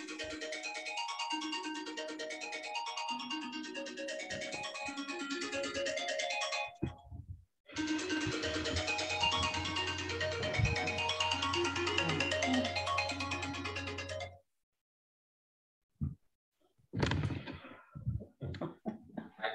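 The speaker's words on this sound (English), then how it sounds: "Silent your phone." A mobile phone ringtone plays loudly and continuously during a breathing and meditation session, a repeating melodic tone that cuts off abruptly, followed by a short silence and a few brief noises.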